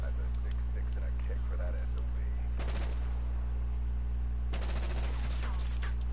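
Gunfire in the video game Call of Duty Black Ops 3: two sharp bursts of automatic fire, the second longer, cut through a steady low hum of game background noise.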